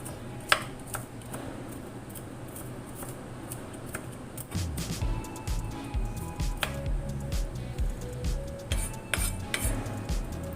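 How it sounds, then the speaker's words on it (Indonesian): A knife coarsely chopping garlic for a simple clear chicken soup, giving a steady run of close, crisp taps on a board with some clinks of utensils; the chopping grows denser and louder partway through, and nobody speaks. "Dirajang kasar saja bawang putihnya"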